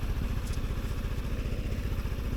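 A Vespa GTS 300 scooter idles close by with an even, throbbing putter and a light mechanical clatter, steady throughout and heard alone.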